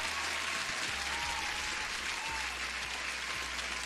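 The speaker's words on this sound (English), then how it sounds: "Everyone deserves another applause." Applause during a live online trading session, a continuous wash of clapping heard faintly and evenly, as if from a recording played over a low background hum.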